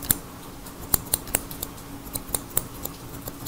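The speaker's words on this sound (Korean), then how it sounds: "가위로 싱글링컷으로 합니다." Scissors snipping hair in a single-ling cut during a clipper-over-comb haircut, a series of crisp, close metallic snips at an uneven rhythm over a quiet room, no talking.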